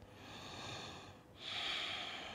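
Ujjayi yoga breathing, the victorious breath, sounds as slow, hissing, throat-constricted breaths heard close up, one breath fading and a stronger one following.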